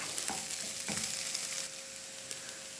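Tomatoes sautéed in a frying pan while preparing clam roast, a close steady sizzle with occasional scraping stir strokes and a soft clink.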